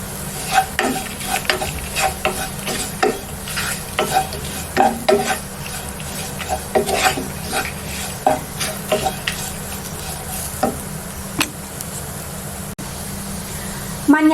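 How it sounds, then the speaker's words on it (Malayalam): Green chili and chili powder sauté in a pan for a bitter gourd curd curry: repeated scraping strokes of a spatula over a continuous low sizzle, close and moderately loud. "ഇതും ചേർത്തിട്ട് നന്നായിട്ട് അങ്ങ് വഴറ്റിയെടുക്കാം."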